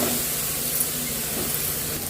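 Prawns and ridge gourd frying in a pan, a steady loud hiss of sizzling oil running throughout at close range, with no voices.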